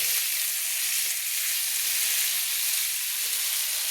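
Kohlrabi and potato pieces sizzle steadily with spices in hot oil for a vegetarian kohlrabi curry, a continuous close hiss with no pauses and no talking.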